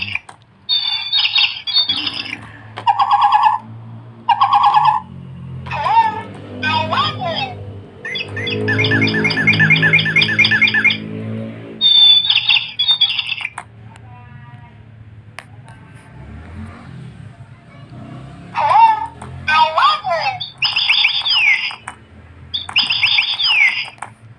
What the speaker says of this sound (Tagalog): Meron nagsasalita daw yung kanyang alagang ibon